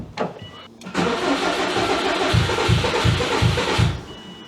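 Built Subaru WRX engine cranking after four years sitting: a short burst, a pause, then sustained loud cranking with a rhythmic chug of about five pulses before it catches, close and with no talk.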